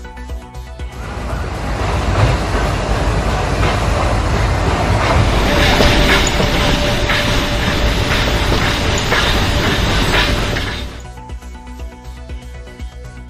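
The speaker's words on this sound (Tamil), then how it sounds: "உதகையில் மலை ரயில் சேவை மீண்டும் தொடக்கம்" A Nilgiri mountain railway train at Ooty rumbles past with a broad, rushing roar that swells, holds for several seconds, then cuts off abruptly, with no talking.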